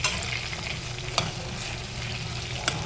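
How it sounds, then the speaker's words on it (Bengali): Tomato frying at one side of a pan gives a close, steady sizzle. Light scrapes and soft stirring knocks rise above it at intervals, and no one speaks. "এক সাইডে যে আমি টমেটোটাকে ফ্রাই করতে দিয়েছিলাম"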